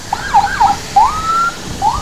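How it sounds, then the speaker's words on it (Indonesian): An ambulance siren wails in rising and falling sweeps as it passes on a bumpy, patched provincial road near the Magelang–Purworejo border, fairly close and clear with no talking. "Ada ambulans."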